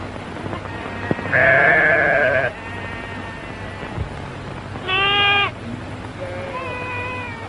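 Sheep being driven to a ranch in an old Western bleat in a few loud, wavering calls separated by pauses, set against a steady low outdoor background.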